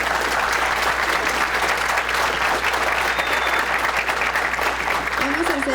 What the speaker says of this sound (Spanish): Le demos un aplauso, por favor, al profesor